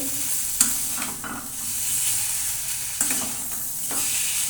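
Potatoes, pointed gourd and papaya sauté in spice paste for a vegetarian curry, giving a steady close sizzle with two sharp utensil scrapes and stirring clatter; no one talks.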